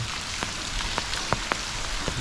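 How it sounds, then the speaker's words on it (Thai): Rain falling outside a cave in Laos, a steady soft hiss with scattered drops ticking sharply on surfaces, close and alone. "ฝนยังตกอยู่เลยครับ"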